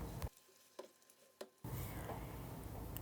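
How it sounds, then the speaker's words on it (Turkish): Vegetables for an eggplant dish stirred in a hot pan after a spoonful of salt goes in: a few soft scrapes over quiet sizzling, then a steady, louder frying hiss that carries through to the end. "1 tatlı kaşığı tuz ekliyorum ve karıştırıyorum"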